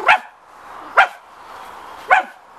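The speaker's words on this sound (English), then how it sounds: "the dog keeps barking" A dog barks three times at close range in a loud, evenly spaced rhythm, with faint background noise between the barks.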